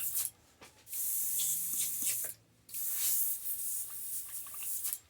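Short bursts of fine, airy hissing spray from an airbrush applying paint start and stop, separated by brief quiet pauses and faint clicks.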